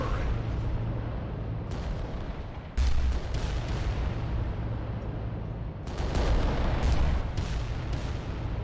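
Giant war machines open fire in the strategy video game Adeptus Titanicus: Dominus: heavy booming weapon blasts and rumbling explosions over a constant low drone, with a sharp burst near the start and a louder barrage toward the end.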